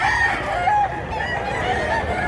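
A gamecock crows close and loud at a busy rooster market in Barili, Cebu, one drawn-out call with clucking fowl around it and no talk.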